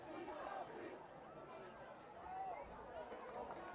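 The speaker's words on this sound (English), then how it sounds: "Clock ticks down as the crowd chants, "Feed the beast."" Crowd at a high school varsity football game against Doherty chanting "Feed the beast" as the clock runs down, a steady mass of voices with swelling rhythmic surges, fairly distant and reverberant.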